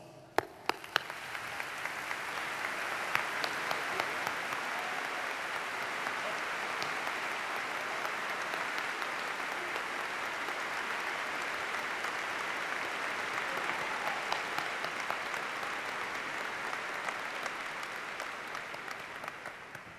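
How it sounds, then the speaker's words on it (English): Sustained audience applause at a university commencement ceremony, a broad even roar of many hands clapping that swells in after a few sharp claps and carries on steadily, fading slightly at the end. "would you please stand so that we may express our appreciation through applause"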